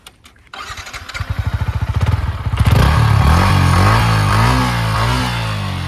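A 2023 Yamaha MT-15 motorcycle with a 150 cc engine cranks and fires up. Its rapid loud pulsing builds into a close, strong revving before it settles into a steady, throaty idle.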